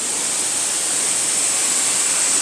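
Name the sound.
waterfall in Koh Phangan National Park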